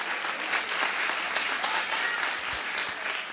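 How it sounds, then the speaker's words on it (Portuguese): A congregation at a midweek church service applauds loudly and steadily, dense clapping filling the space without pause and no voices rising above it. "Se for para Deus, aplauda mais forte onde você estiver."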